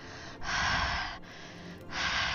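Imitated heavy breathing pushed straight into a microphone, three long rushing breaths separated by short pauses, loud and very close with no words.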